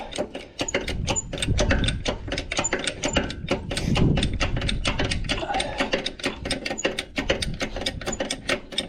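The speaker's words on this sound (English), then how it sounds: "Again, blocks are in, jacks is under the center, and we simply lift it up." A jack set under the center of a trailer axle, with wheel blocks in place, raises a trailer wheel off the ground in a rapid run of loud, close metallic ratcheting clicks, steady and mechanical throughout, with no voices.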